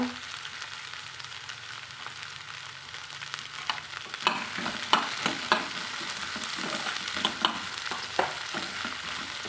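Soft, steady sizzling of green cowpeas and brinjal sautéing in a pan for a tamarind kootu, with occasional scraping clicks from stirring partway through. No speech.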